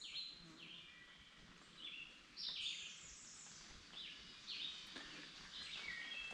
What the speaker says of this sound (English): The woods robins are very vocal back here.